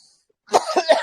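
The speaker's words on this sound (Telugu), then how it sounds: "కొంచెం దగ్గు ఉంది" A person nearby gives a short burst of two or three rough coughs after a moment of silence.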